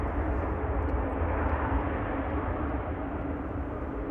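A Qatar Boeing 777 at Manchester Airport gives a steady, fairly distant jet engine roar that holds constant throughout with no talk.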